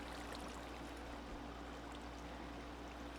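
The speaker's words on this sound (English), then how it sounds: "you have to have water that is flowing, not a static block" Flowing water in Minecraft, running for a water wheel generator, comes through as a steady, continuous trickling stream, fairly quiet and unbroken throughout with no talk over it.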